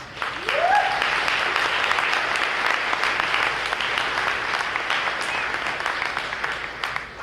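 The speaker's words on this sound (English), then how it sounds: "Can we give all these people a round of applause?" Audience applause at a talk on the challenges of open source consumer products, dense, continuous clapping from a large crowd filling the whole stretch, fairly even in loudness with a faint voice early on.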